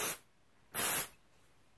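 Two short bursts of Loma dry shampoo sprayed onto hair, a quick hiss followed by a longer one after a pause, close and alone with no talking.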